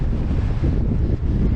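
Strong wind buffeting the microphone on the hilltop of Broom Fell in the English Lake District, a steady low roaring rush that fills the whole stretch with no other sound.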